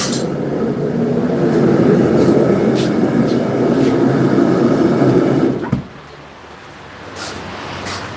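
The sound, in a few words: grinder touching up a forged hot cut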